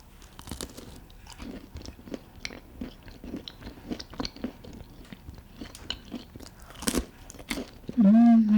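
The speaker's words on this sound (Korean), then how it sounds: "오늘 만든 음식 호러스트를 맛있게 먹어보겠습니다." Crunchy bites and chewing of homemade Russian twisted doughnuts, repeated close crunches at an irregular rhythm, with a short voiced sound near the end.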